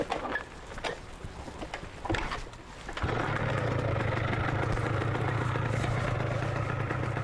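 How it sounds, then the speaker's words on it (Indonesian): A motorcycle engine starts after some handling noise and then idles in a steady, close, loud rumbling putter that runs on without a break. "Ya udah nyalain dulu motornya."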